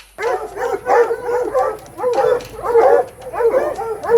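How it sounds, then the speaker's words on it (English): A pack of hounds barks, yips and whines during a morning run, with repeated bursts of barking from several dogs, fairly close and loud and without talk. "As you guys can hear, we're running the hounds."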